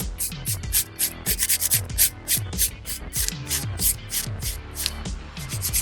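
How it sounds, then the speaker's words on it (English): A fingernail is lightly buffed with a soft 240-grit nail file, giving quick, repeated short scratchy strokes in an uneven rhythm, close up and moderately loud, with no talking. "because this is a 240 file and it's very soft, I can lightly file on top of the nail"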